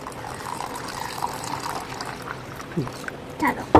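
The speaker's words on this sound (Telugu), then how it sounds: "ఇప్పుడు దీంట్లో వాటర్ అయితే యాడ్ చేసుకుందాం" Water is poured into a pot for sesame lentil curry in a short, splashing stream while voices talk nearby.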